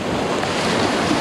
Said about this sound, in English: the waves from the ferry crashing in